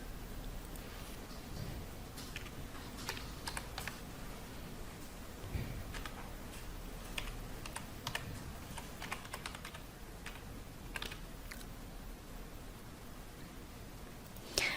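Typing an email address on a computer keyboard: steady, close, fairly quiet key clatter running continuously with an even rhythm and no talking.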